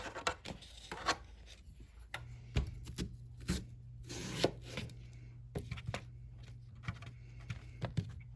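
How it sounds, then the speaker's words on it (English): A knife cuts a large cucumber into quarters on a cutting board for pasta salad, irregular close taps and thuds over a low background hum, with no speech. "I'm going to quarter this cucumber since it's so big."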